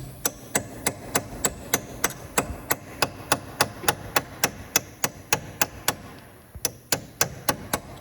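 Sharp metal taps strike repeatedly at a steady, even rhythm while unstaking the axle nut on a 2012 Toyota Matrix front hub, about two dozen crisp close hits with a brief pause near the end.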